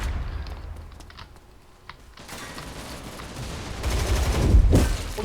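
Gunfire from the war video game Line Of Sight, with an M4A1 rifle: a few sharp shots early, a quieter lull, then dense, rapid bursts building louder toward the end.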